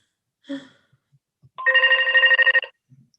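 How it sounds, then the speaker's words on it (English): A telephone rings once in a meeting room, a loud, close burst of bright electronic ringing lasting about a second, set against near silence with a few faint noises around it. "Sorry. That's your phone."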